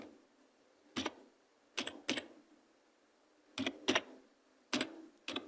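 Quiet, sparse keystrokes on a computer keyboard during data entry, coming as single taps and short clusters of two or three separated by pauses, close and soft with no voice.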